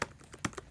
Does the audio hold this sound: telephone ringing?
no